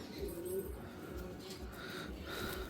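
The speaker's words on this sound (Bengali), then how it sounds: "এই পায়রাটা আমার খুব পছন্দের পায়রা" Soft low cooing from a pet pigeon at home, repeated gentle coos over quiet background, close but faint.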